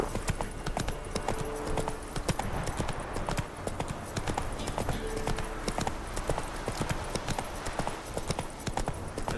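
Roach, the horse in The Witcher 3 video game, galloping hard, with dense, fast, loud hoofbeats continuing steadily over a busy background of game ambience.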